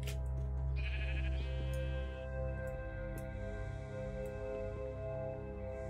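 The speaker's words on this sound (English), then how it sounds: "Ooh, gray sheep." A sheep bleats in Minecraft, a game bleat heard over a steady layered background music bed, with short clicks scattered through the clip.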